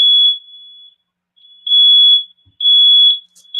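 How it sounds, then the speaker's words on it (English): A smoke alarm sounds in shrill, piercing beeps, a long tone followed by two more bursts with short silences between, loud and close. "That smoke alarm keeps going off."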